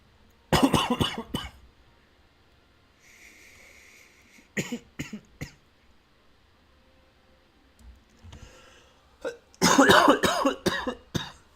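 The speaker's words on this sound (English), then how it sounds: "Still getting over this cough." A man who is still getting over a cough coughs in several loud bursts, one at the start, a couple midway and a final cluster, separated by quiet stretches with faint clicking.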